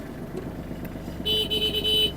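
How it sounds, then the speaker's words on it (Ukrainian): Over a low idling engine, a Kubota GL-261 tractor horn sounds in two short, close honks, one after the other. "Сигнал працює."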